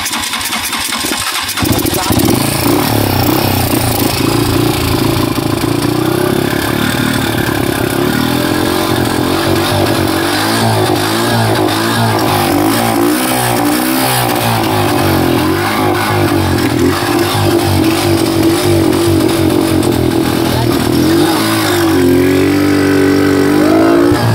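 A faulty motorcycle engine starts with a sputter, then runs roughly and revs up and down in uneven surges for over twenty seconds. Voices talk underneath the loud engine.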